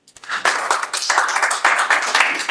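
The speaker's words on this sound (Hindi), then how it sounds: "एक बार ताली अपने लिए" Dense, sustained clapping from an audience at a poetry recital, many hands at once, loud and continuous with slight swells in intensity.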